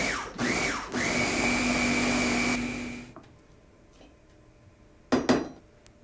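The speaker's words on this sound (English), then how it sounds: "Lid goes back on your food processor. Just a couple of quick pulses to mix it in there." A food processor gives a few short pulses to blend garlic into hummus, a loud whirring burst of about two seconds followed by a brief second buzz after a pause, with no talking.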